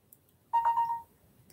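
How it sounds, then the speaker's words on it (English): A phone notification chime rings once, a short clear tone lasting about half a second, close and fairly loud against a quiet room. "Quit dinging, phone."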